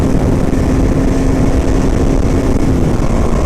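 A Husqvarna Svartpilen 250 single-cylinder motorcycle is ridden in fifth gear, a loud, steady engine drone mixed with heavy wind rush and a constant hum, with no talking.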